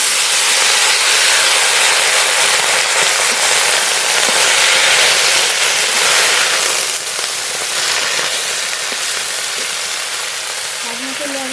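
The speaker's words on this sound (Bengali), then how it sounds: "কেটে ধুয়ে রাখা পালং শাক দিয়ে দেবো।" Freshly washed, chopped spinach drops into hot oil with whole garlic, setting off a loud, dense crackling sizzle that holds steady and eases slightly toward the end.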